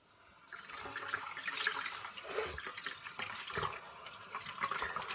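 A tap runs steadily into a sink as a face is rinsed, with close, continuous splashing water that rises and falls slightly.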